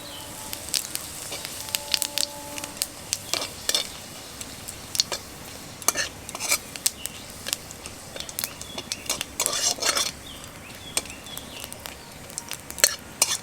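Dry chilli, bay leaf and cumin seed tempering being stirred in hot oil for chana dal, heard as a steady run of small spatula clicks and scrapes against the pan over a faint sizzle, with no voices.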